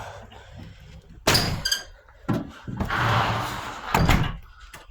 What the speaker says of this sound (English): Let me shut my doors